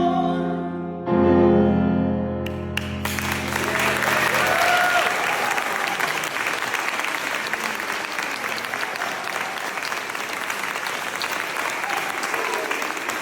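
A packed concert hall in Italy breaks into a standing ovation: after a final sustained musical chord, dense, loud applause fills the room and keeps going steadily, with some voices mixed into the crowd noise.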